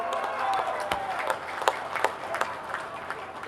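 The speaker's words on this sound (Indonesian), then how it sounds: "Mari kita tepuk tangan untuk seluruh pasangan calon." Applause from a debate audience for the regent and deputy regent candidates in Musi Rawas, a steady dense clapping wash with sharper individual claps poking through, loud and continuous throughout.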